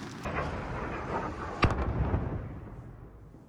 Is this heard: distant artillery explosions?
yes